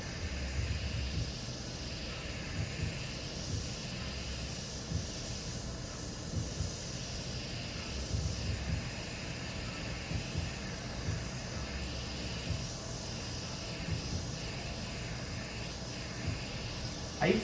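An airbrush sprays paint in a continuous soft hiss, close and steady, with faint low rumbling and occasional small bumps underneath for the full length.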